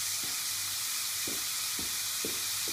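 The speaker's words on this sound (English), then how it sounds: "They're just sizzling away." Steady, bright sizzling of cumin seeds frying in hot oil, with a few soft knocks of a spoon stirring in the pan, close up and without speech.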